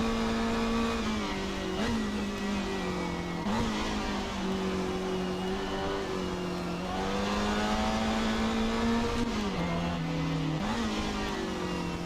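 Lotus Elan race car in Assetto Corsa at the Goodwood Revival circuit, its engine droning steadily at high revs throughout, pitch dipping and climbing with brief lifts at gear changes, loud and continuous with no talk.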